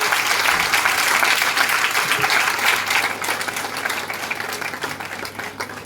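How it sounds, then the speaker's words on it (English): Audience applause for a Florence Nightingale Award winner at an International Nurses Week celebration, a loud, dense burst of clapping that stays steady and then eases slightly toward the end, with no voices over it. "Give a big round of applause for her."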